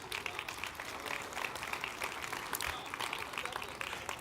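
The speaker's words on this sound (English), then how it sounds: "Give yourselves a nice round of applause." Audience applause at a conference general session, steady dense clapping throughout with a few voices mixed in, moderately near.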